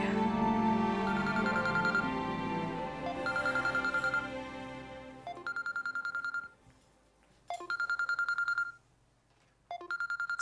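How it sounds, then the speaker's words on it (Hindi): A telephone rings in a drama scene, its electronic ringtone sounding in clear repeated bursts with short silent gaps, following a stretch of music. "सुल्तान का फोन?"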